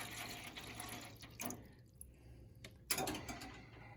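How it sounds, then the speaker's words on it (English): Water pours into the bottom tray of a microgreens growing setup, a quiet splashing trickle broken by a couple of brief louder gushes, with no talking. "So we're going to fill the bottom tray with water to maybe about 1 inch."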